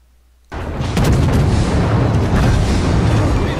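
A sudden heavy boom in World of Warships as an enemy battleship is destroyed, breaking a near-silence into a loud, sustained rumbling roar that holds steady to the end.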